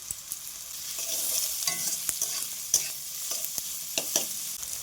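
Chopped garlic, ginger, onion, carrot and green chili stir-fry in a pan for chicken chowmein, giving a steady, moderately loud sizzle broken by sharp spatula scrapes and clinks every second or so, with no talking.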